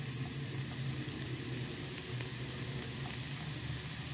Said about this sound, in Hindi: बस तेल अच्छे से गर्म हो गया, मैं इसके अंदर लहसुन शामिल करूंगी